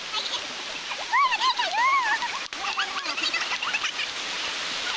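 A strong, cold river rushes past in a loud, steady roar, with several people talking over the water throughout.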